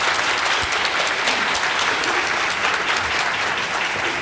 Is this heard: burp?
no